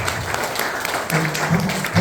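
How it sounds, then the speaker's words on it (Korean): A short stretch of clapping from a gathered audience, steady and moderately loud, with a low voice murmuring beneath it. "박수 한번 쳐주십시오"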